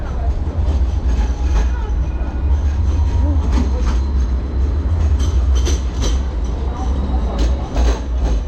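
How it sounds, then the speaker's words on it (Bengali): A tram running in Sydney, a continuous close rumble with clattering wheels and faint metallic squeals throughout, with voices talking in the background. "ট্রাম এটা"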